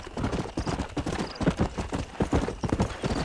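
Quick steady hoofbeats from a galloping horse in the Brazilian countryside video game GTA da Roça, close and rhythmic throughout, with no clear talking.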